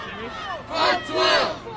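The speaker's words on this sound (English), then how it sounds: "Chanting "Fuck 12."" Protesters chant in unison, two loud rhythmic bursts of many voices rising out of a background crowd murmur.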